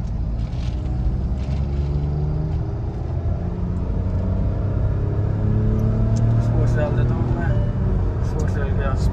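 A Hyundai Venue N Line accelerating on the road: steady engine drone with rising tonal whine as revs climb, continuous road and cabin rumble throughout, with people talking inside the car.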